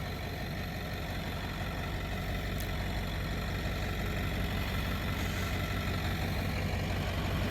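An old International truck's engine idles in a steady, unbroken low rumble that stays near and even throughout, with no voices.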